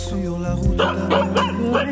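Dog barking nearby in short bursts, loud and close, with some yipping over a low steady hum.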